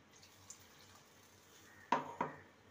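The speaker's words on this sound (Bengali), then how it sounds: "এবার দিয়ে দেবো জল পরিমাণ মতো" Water poured into a pot of potato and besan-pumpkin curry: a quiet kitchen, then two short, close splashing pours in quick succession.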